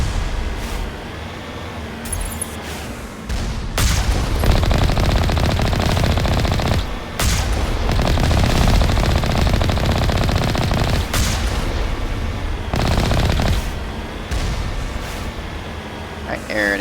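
Video game gunfire in The Legend of Shepard: Alliance: dense, loud bursts of shooting with heavy low rumble and a few brief pauses, over continuous game noise.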